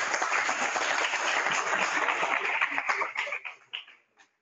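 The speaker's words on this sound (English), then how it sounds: "Let's give one more round of applause," Audience applause at a water innovation celebration event, a full round of many hands clapping steadily, then tapering off into a few scattered claps before silence.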